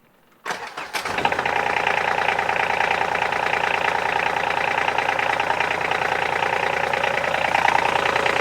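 A Polaris Ranger 1000 diesel engine cranks and catches, then settles into a steady, loud mechanical clatter that runs on alone with no one speaking.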